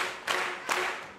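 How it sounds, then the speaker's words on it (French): Two sharp group claps in unison from a theatre audience at a musical comedy awards ceremony, evenly spaced and close, with a short decaying ring after each. "Amis claqueurs, frappons en chœur."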